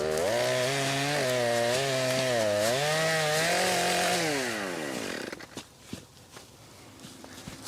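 A chainsaw trims the ends of logs for a tiny log cabin foundation, its engine revving up and down loudly and close for about five seconds. It then cuts off, leaving quiet rustling and footsteps.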